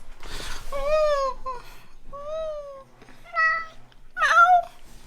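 A cat meows close by, four distinct meows in a row, rising and falling in pitch, the last one loudest and most insistent.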